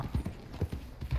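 Horse hooves clip-clop in a video game, a quick series of close, steady thuds with a galloping rhythm over a faint background.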